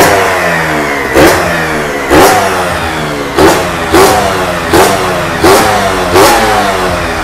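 Kawasaki KR150 two-stroke motorcycle with a melted piston, revved in six sharp, evenly spaced blips over a rough idle, loud and close, with no talk.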